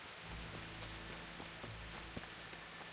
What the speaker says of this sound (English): Damn, it's rain.